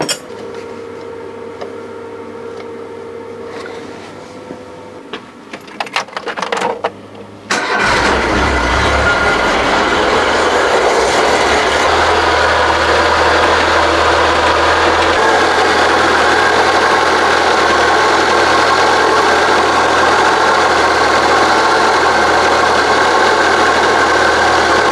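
A Citroën BX engine cranks and catches after a few quiet seconds, then settles into a loud, steady idle with a faint ticking that continues to the end.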